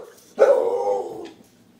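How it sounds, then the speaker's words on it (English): A single dog bark, a close, loud woof lasting under a second against a quiet background. "There's my dog, by the way."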